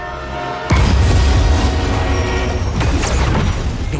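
A runaway train in Marvel's Spider-Man 2 bursts into a loud, continuous roar and rumble that holds steady for several seconds, with a metallic screech rising near the end.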